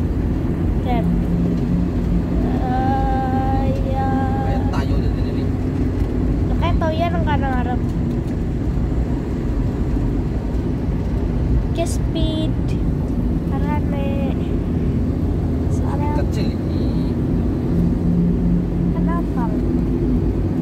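A car drives along with a steady, close road and engine rumble throughout. Children's voices and an adult's voice talk over it.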